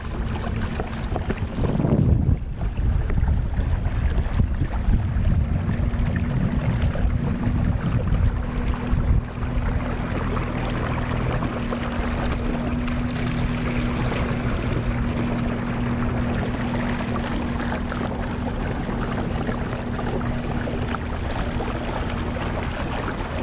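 Minn Kota electric trolling motor pushing a kayak at about 80% throttle, a steady low hum with wind buffeting and water wash throughout, no voices.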